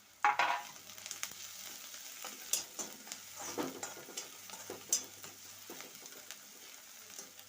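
Onions, new-season ones, frying in a pan while being stirred, giving a steady soft sizzle with scraping stir strokes and occasional utensil knocks close by, no voices.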